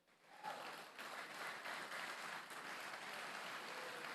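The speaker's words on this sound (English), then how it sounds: "Give applause to them." An esports grand finals audience applauds, a broad, fairly faint wash of clapping that swells in after a moment and holds steady, heard from a distance.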